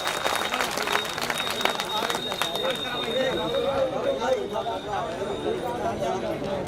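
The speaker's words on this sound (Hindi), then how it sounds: "आप लोग जोरदार ताली बजाकर माननीय मुख्य अतिथि" An audience at a political gathering claps to welcome the chief guest, loud dense applause filling the space, while a speaker's voice carries over it through the whole stretch.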